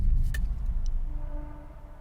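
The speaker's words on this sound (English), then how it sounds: "That's just a train." A distant train passes near the woods: a low, steady rumble that slowly fades, with a faint drawn-out tonal whine partway through and no voices.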